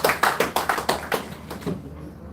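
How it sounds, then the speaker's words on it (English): Audience at a democracy forum in Abuja clapping in a steady, evenly spaced rhythm of distinct claps that soften and fade toward the end, with no talk over it. "Please, a round of applause."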